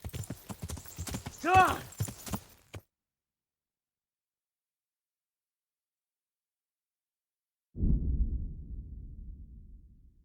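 A horse in the medieval game Kingdom Come: Deliverance: hoofbeats clop along with a rising, whinny-like cry, then everything cuts to silence until a low, rumbling thud fades out.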